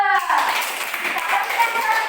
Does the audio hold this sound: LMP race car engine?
no